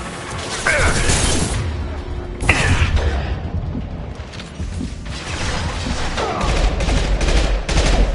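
Loud, dense bursts of gunfire rattle almost continuously in a Mass Effect 2 firefight, with sharp impacts and crashes over the battle noise and occasional voices.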